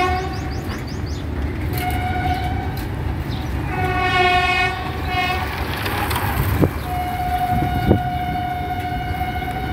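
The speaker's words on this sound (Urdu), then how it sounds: "ہمارا کیمرہ دیکھ ہی رہا اپنے ٹرین" Indian Railways train 41588 at Bhusawal rumbles past with steady wheel and carriage noise, its horn sounding in several sustained blasts, loud and close, with no talk.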